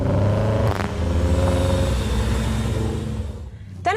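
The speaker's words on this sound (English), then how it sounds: "The smooth sound of the 40i six-cylinder petrol engine with 340 horsepower and M Sport exhaust system" A 2019 BMW X5 40i with its 340-horsepower six-cylinder petrol engine and M Sport exhaust gives a steady, smooth, close engine hum with a rich low rumble throughout, alone without talk.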